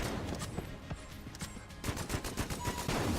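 Rapid bursts of strafe gun fire in the video game Enter the Gungeon crackle in quick, dense volleys, close and loud, with a brief lull before the shooting resumes.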